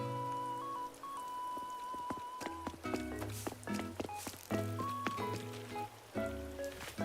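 Rain falls in steady drops and pattering taps on a surface, with sharp clicks and tonal hums scattered through, at a moderate level.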